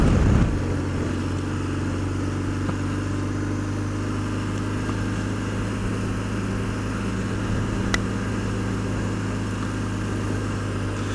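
A Harley-Davidson Sportster motorcycle riding up Butterfield Canyon, a steady low engine drone running throughout at moderate distance with a brief louder onset at the start.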